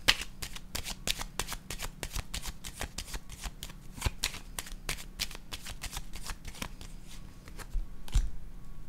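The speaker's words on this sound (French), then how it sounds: "Je vais déposer une autre carte ici." Tarot cards are shuffled and handled up close, a steady run of crisp flicks and slaps through the whole stretch, ending in one sharper thump, with no talking.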